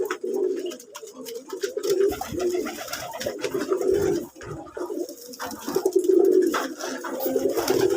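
Pigeons coo in low, throaty, repeated calls at night while being fed, several birds close by, with soft rustling and shuffling between coos.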